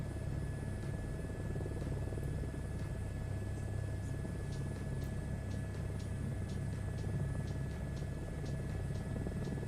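Helicopter flying a crosswind turn toward downwind over a runway circuit, its steady rotor and engine rumble droning loud and continuous with a faint high whine, no talk.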